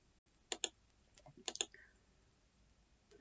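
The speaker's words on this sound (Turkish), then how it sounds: "üçsel hareketli ortalamaya 3 kere tıklıyorum" Mouse clicks on a trading chart indicator: two quick pairs of sharp, faint clicks on a quiet computer desk, then a lone softer tick near the end.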